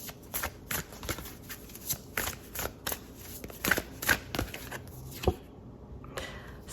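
Tarot cards being shuffled by hand, crisp riffling flicks repeating in quick irregular bursts, close and fairly quiet, with a brief pause near the end.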